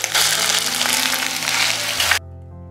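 Crushed ginger and garlic hit hot oil and fry with a loud, dense sizzle that holds steady for about two seconds, then cuts off sharply, leaving a faint low hum.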